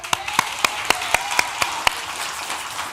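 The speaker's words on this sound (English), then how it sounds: "Let's clap for that" Steady rhythmic clapping, a few sharp evenly spaced claps over a background wash of scattered applause.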